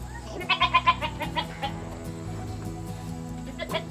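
Several goats bleat in a quick cluster of calls early on, close and fairly loud, then a few softer bleats follow over a steady low background hum on a homestead.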